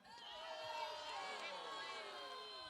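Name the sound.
crowd giving a rousing cheer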